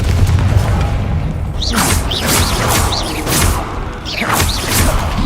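Confringo spell explosions in the Hogwarts Legacy video game: a run of loud, booming blasts with whooshing bursts, several in quick succession over a rumbling low background.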